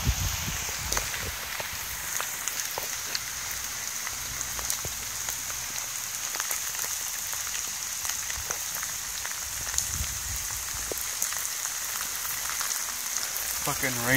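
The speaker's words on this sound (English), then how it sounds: "It's too much rain." Heavy rain in a rainstorm pours down in a dense, steady hiss, with scattered louder drops pattering nearby and no voices.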